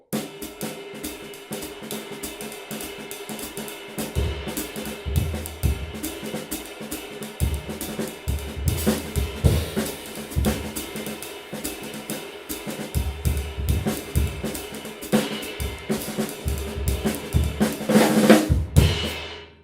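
A drum kit plays a busy, syncopated uptempo jazz groove with cymbals and snare hits, rising in intensity toward the end, no talking.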